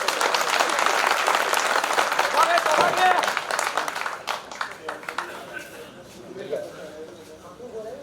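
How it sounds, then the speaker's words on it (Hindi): Loud crowd clapping at a Hindi poetry recital fills the first few seconds, then thins into scattered claps and fades out under quieter room noise. "तो थोड़ी तालियां ठीक ठाक बजा दो यार"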